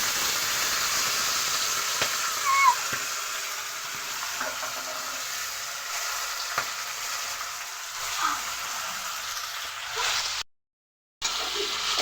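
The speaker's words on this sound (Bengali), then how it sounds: "এই যে টমেটো আর কড়াইশুঁটি ভাজা হয়ে গেছে" Tomatoes and green peas fry in a pan for a palak paneer dish, giving a steady, close sizzle with faint crackles that runs throughout and cuts out briefly near the end.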